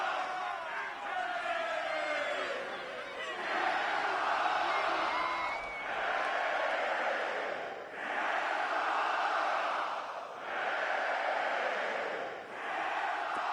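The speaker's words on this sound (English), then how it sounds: "This crowd dying for a stop" Stadium crowd roar from a football video game on PS4, a steady broad wash that swells and dips in waves, carrying on continuously with no one talking.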